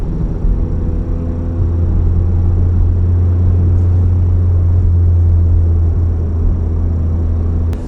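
Stage 2 Volkswagen Golf R cruising near 3,000 RPM, a steady deep exhaust drone with a strong low resonant hum held continuously and evenly, close and loud inside the cabin.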